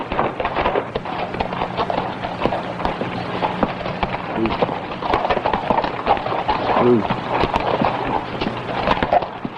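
Steady clip-clopping of horse hooves at a trot, continuous and fairly close, with a voice speaking over them.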